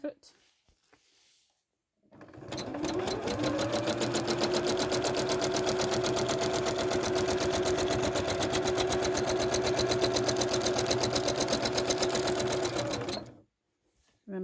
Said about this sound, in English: So I'm going to do a bit more sewing and then I'll come back and show you